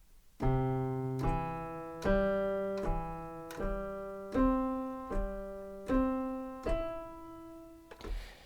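Piano notes struck one after another in a steady, even rhythm, each ringing and fading before the next, forming broken chord inversions.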